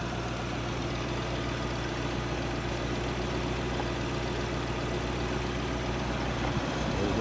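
A 1952 Buick engine idling as it warms up after 26 years unused, a steady continuous low rumble with an even broadband drone throughout, moderately loud and unbroken, with no talk.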